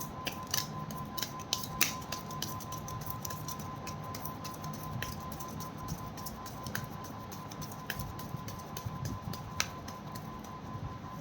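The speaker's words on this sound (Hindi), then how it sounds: "This is my last shuffle angels." A tarot deck is shuffled close up, giving crisp, papery flicks and snaps in irregular bursts over a soft, steady background hum, with no voice.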